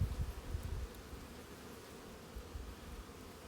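Honey bees buzz softly on hive frames during a hive inspection, a low, steady drone with a few louder bursts near the start, with no talking.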